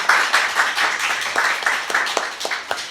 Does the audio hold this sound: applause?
yes